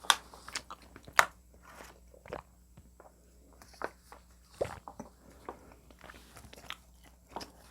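Chewing a slightly hardened glutinous rice doughnut, close and quiet: irregular sticky bites and crunches with soft mouth sounds between them, no talking.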